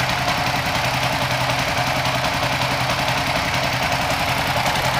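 A bored-up motorcycle engine with a racing ECU idles low and steady at about 1200 rpm, a close, continuous, throbbing, slightly knocking rumble with no voices.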